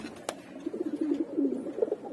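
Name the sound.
pigeon released after being colored with food dye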